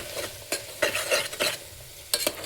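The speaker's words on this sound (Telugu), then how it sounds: "మొత్తం అంతా దీంట్లో ఫ్రై అవ్వాలి." Tomato, onion and ginger garlic paste fry in a chicken curry pan, with a soft sizzle under several quick spoon scrapes and stirs, close and moderately loud.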